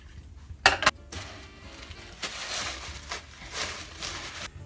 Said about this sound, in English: We're going to give this a nice stir.